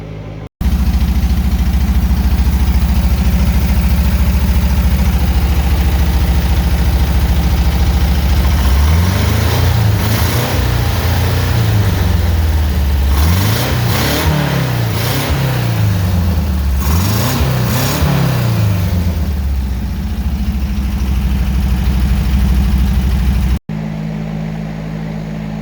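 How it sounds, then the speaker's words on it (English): A 1975 Porsche 914 engine with dual carburetors catches and runs, holding a loud, fast idle with several rising and falling revs in the middle before cutting off abruptly near the end. "without doing any adjustment to the carburetors, it fires right up. And I mean, it's idling high."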